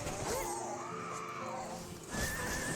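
A horse in the video game Final Fantasy XIV lets out a long, loud whinny that wavers in pitch, followed by a second shorter neigh, up close over game background sound.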